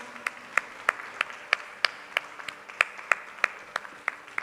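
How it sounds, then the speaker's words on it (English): At a satsanga mela gathering, a small group applauds a child with even, rhythmic claps about three per second, sounding fairly faint and thin rather than a full crowd. "All of you clap for Medha."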